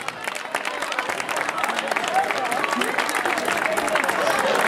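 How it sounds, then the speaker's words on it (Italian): Applause from a crowd at a carnival parade in San Donato di Ninea, a steady wash of clapping with babble and cheering mixed in, sustained throughout at moderate loudness. "un applauso per loro"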